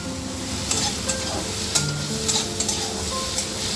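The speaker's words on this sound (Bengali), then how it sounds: "খুব ভালোভাবে এটা নাড়াচাড়া করে আমি মিশিয়ে নেবো" Semolina batter being stirred and mixed in a pan for a quick low-oil rice-flour-style flatbread, with steady scraping and a few sharper clicks of the utensil against the pan, close and moderately loud with no talking.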